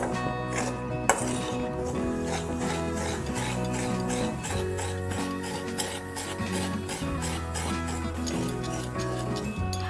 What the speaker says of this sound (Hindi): 2 मिनट से सूखा ही भूनेंगे